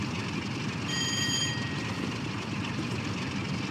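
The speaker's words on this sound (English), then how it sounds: "I prefer having both open so I can definitely hear the engine." Locomotive engine in Train Sim World 6, a steady low diesel rumble with a brief high whistling tone near the start, continuous and moderately loud with no talking.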